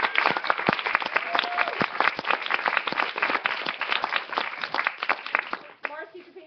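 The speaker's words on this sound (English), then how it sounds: "let's stop and actually applaud everyone so far who's done a shift on any." A workshop audience applauds volunteers with brisk, dense clapping from a room full of people that runs for several seconds before tapering off, and a voice begins speaking at the end.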